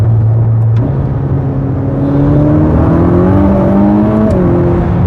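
A Mercedes-AMG GT Black Series accelerating hard from 40 to 70, heard from the cabin as a loud, rising engine drone that climbs steadily in pitch through the gear, with a brief shift near the start and no talk.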